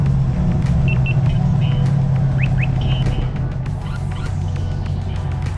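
A C8 Corvette's engine idles with a steady low rumble close by, with faint electronic beeps and chirps from the dashboard over it and no speech.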